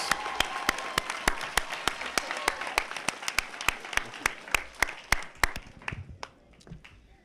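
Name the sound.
audience applause at graduation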